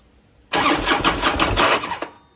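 A 2002 Harley-Davidson FLHRSEI motorcycle engine cranks and fires up close by, a loud sustained rumble lasting about a second and a half before cutting off abruptly, with no talking.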